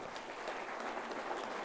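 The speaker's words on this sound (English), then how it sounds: "Give yourself a round of applause." A conference audience of agricultural leaders breaks into sustained applause, an even, dense patter of many hands throughout.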